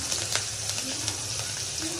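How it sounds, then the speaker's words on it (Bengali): Chopped onions and green chillies fry in the leftover oil from frying pangas fish, giving a close, steady sizzle with small crackling pops throughout. "পেঁয়াজগুলো একটু ভাজা ভাজা হয়ে আসছে"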